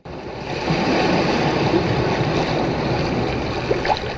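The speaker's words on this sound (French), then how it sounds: "on peut entendre le bruit du ressac" Sea surf washes ashore in a continuous loud broadband rush that swells and holds steady, with gusty wind noise against the microphone and no voices.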